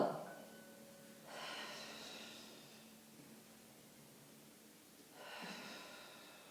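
Slow, audible breaths during an intermediate Pilates exercise on a mat: two long breathy exhalations, close and fairly quiet, separated by a soft pause with no talking.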